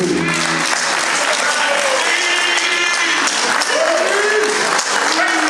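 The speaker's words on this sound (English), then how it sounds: "How about have a round of applause for Lawrence Weasley?" Crowd applauding loudly and continuously at an event, dense clapping and cheering with whoops rising over the noise throughout.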